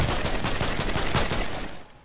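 Rapid automatic gunfire in Fortnite shoots through player builds in a dense, loud, continuous burst that cuts off near the end, with no talk over it.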